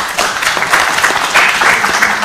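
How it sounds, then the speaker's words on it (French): Audience applause at an album presentation, a dense, steady wash of clapping from many hands close by, lasting throughout with no pause. "Applaudissez."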